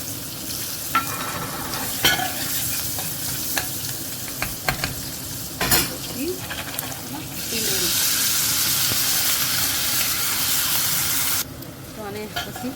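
Curry leaves, asafoetida, turmeric and chili hit hot oil in a pan. Light sizzling and stirring clinks swell into a louder, steady hiss for a few seconds, then ease back.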